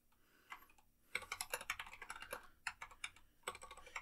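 Rapid bursts of keystrokes on a computer keyboard while a command is entered in Zorin OS 16, loud and close, with brief pauses between clusters of clicks and no talking.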